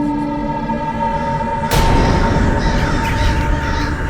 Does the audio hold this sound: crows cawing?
yes